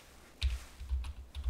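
Computer keyboard typing: a few close, distinct key clicks in quick irregular groups, alone with no talk.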